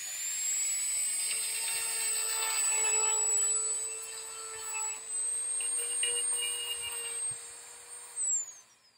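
A Dremel rotary tool runs at full speed sharpening the teeth of a chainsaw chain, a steady high-pitched whine with grinding rasps as the stone works each tooth, close and continuous throughout.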